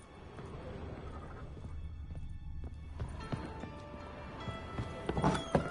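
Horse hooves clopping in the video game The Witcher, a run of irregular thuds and clatters with rising intensity toward the end, mixed with other game sounds and faint tonal effects.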